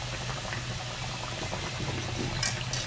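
Sweet wheat-flour tikkis fry in very hot ghee, a steady close bubbling sizzle with no talk.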